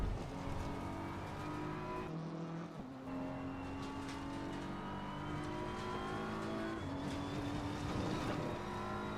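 A BMW GT3 race car laps Spa in a racing video game, its engine droning steadily at high revs. Pitch climbs gradually between two audible gear shifts. No voices are heard.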